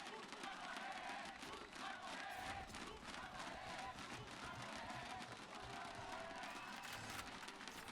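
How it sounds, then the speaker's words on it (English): A large arena crowd at a Valorant Game Changers esports match roars and cheers continuously, a dense, sustained wall of voices heard at a distance, with a commentator talking faintly over it. "you can feel that crowd"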